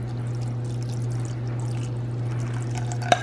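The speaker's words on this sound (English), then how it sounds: "cover it up with water again" Water is poured over citrus peel in a pan while making mixed peel, a soft steady trickle over a constant low hum for about three seconds, ending in a sharp click.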